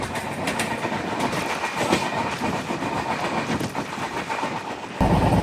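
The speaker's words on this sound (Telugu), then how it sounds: "ఇప్పుడు వెళ్ళింది ఏ బండి అనుకుంటున్నారు? సమత ఎక్స్ప్రెస్, విశాఖపట్నం హజరత్ నిజాముద్దీన్." Samata Express, the Visakhapatnam to Hazrat Nizamuddin train, rumbles past close by with a steady roar and rhythmic clickety-clack of wheels over rail joints, ending in an abrupt shift to louder noise.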